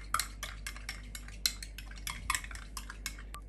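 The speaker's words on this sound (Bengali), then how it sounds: "এখন একটা চামচ দিয়ে এটাকে আমি ভালো করে গুলিয়ে নিচ্ছি" A spoon stirs half a cup of milk in a bowl, tapping and scraping against the sides in a quick, uneven run of light metallic clinks, close but quiet, with no voices.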